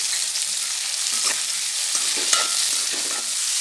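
Garlic, tomato, onion, green chilli, mustard seeds, dals and cashews sautéing in a pan for vegetable semiya kichadi, a loud steady sizzle with stirring scrapes throughout.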